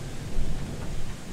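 Thunder rumbling from stormy weather in the video game Lethal Company, a loud, dense, broadband roar with rain-like hiss, steady throughout a brief moment with no talk.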